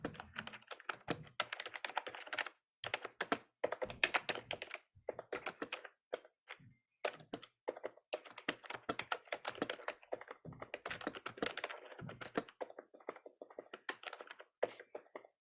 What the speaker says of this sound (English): And if my keyboard is too loud, go ahead and just mute it.